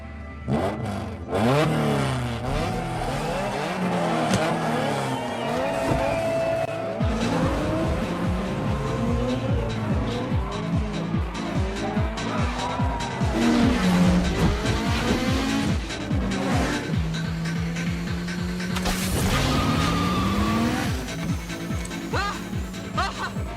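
Race car engine roaring and tires squealing during a film scene about nitrous use, with revs rising and falling and skids sweeping through the whole stretch, loud and close amid a busy soundtrack.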